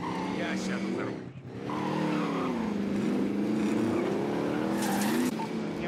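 A car in Call of Duty: Warzone revs and skids, its engine droning continuously with a brief dip, then tires squealing loudly near the end, with game voice chatter mixed in.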